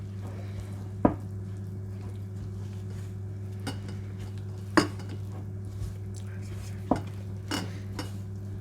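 Sticky walnut bread dough being stirred in a bowl with a wooden spoon, a few sharp knocks against the bowl spaced seconds apart over a steady low hum, no talking.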